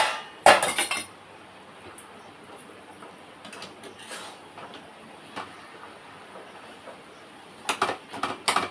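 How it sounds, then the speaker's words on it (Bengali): A metal spoon stirs a mixed vegetable chochori in a pan, giving three short bursts of scraping and clinking separated by a quiet background. "এখানে এই চচ্চড়িটা চলছে একটু নাড়িয়ে দিই"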